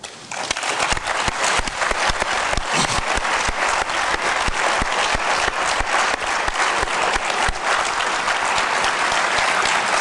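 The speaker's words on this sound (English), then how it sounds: "I would like to have an applause for Paul Hogan." An audience at a closing ceremony breaks into dense, sustained applause honoring a guest, loud and steady for the full ten seconds with no voices on top.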